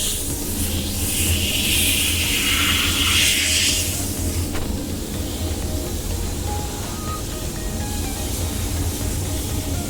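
Bathroom cleaner sprays with a steady continuous hiss, strongest in the first few seconds, with a low mechanical hum underneath and no talking.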